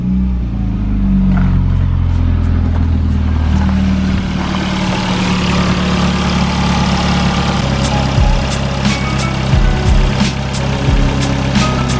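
A Ford Fiesta engine idles steadily after a dose of Wynn's stop smoke additive, a loud continuous low rumble running the whole time with a few brief revs and clatters late on, no talk over it.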